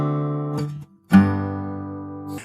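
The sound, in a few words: chords in a 1 to 5 progression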